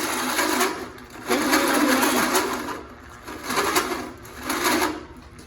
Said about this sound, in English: Just drill the last little bit.